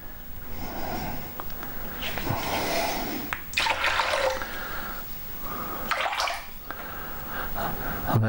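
Lukewarm water poured into a plastic measuring jug to make up 300 millilitres for bread dough, heard as close, uneven splashing and trickling in several bursts over a soft background.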